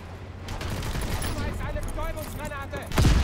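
Gunfire from a Call of Duty WWII battle, dense crackling volleys aimed at infantry near a tank, steady under a voice talking, with a heavier burst at the end.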